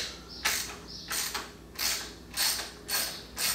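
Socket wrench ratchets in short repeated bursts while unbolting nuts on the grill of a 2018+ Roush F-150, about six close, crisp clicking strokes separated by brief pauses.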